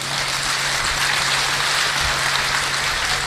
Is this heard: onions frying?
no